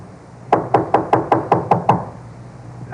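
Knocking on a door in a radio drama, a steady burst of about eight sharp, evenly spaced raps up close, followed by a short quiet pause.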